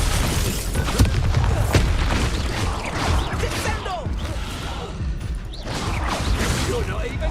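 Bombarda blasting spell explosions in Hogwarts Legacy, with repeated booms, crashes and shattering debris amid continuous combat noise, loud and busy throughout; a voice speaks at times.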